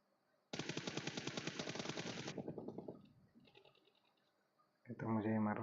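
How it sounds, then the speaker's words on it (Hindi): A sustained burst of rapid automatic gunfire in the video game PUBG, fading into softer clicks, then a voice speaks loudly at the end. "इसने फायर किया ना अभी?"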